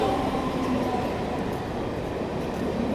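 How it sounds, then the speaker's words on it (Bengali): A MEMU passenger train rolls into Jaleswar railway station at dawn, giving a dense, steady rumble of wheels and carriages heard close by without pause. "এখন আমাদের ট্রেন ঢুকছে জলেশ্বর মেমু প্যাসেঞ্জার।"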